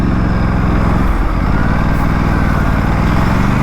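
A twin-cylinder Aprilia RS457 sport motorcycle's exhaust note drones loud and close, holding a steady idle-like throb throughout with a brief blip in pitch near the middle.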